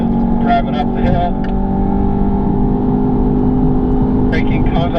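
An Audi TTS engine drones steadily as the car climbs a hill at Sonoma on a driving course, with a sustained hum and a few higher bursts, while someone talks over it throughout.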